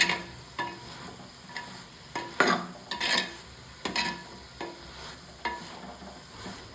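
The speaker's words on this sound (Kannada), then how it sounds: "ಈ ಥರ ಮಿಕ್ಸ್ ಮಾಡ್ತಾಯಿದ್ದೀನಿ." A spoon scrapes and stirs ridge gourd curry with tomato, onion and tempering in a pan, giving repeated close scraping strokes at an irregular rhythm over a soft background sizzle.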